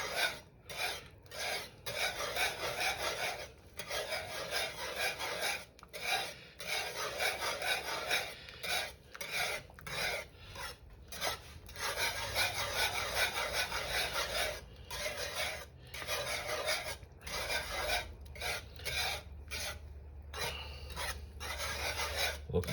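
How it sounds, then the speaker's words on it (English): A utensil scrapes and rubs steadily around a pan of sausage gravy on a stove at medium heat, a close, rhythmic rasping stir repeated over and over with brief pauses between strokes. "Back to stirring."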